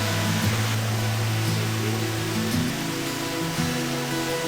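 Waterfall deep in a forest beside shrines in Kochi, Japan, a steady broadband rush of falling water, loud and continuous throughout, with a low droning undertone and no voices.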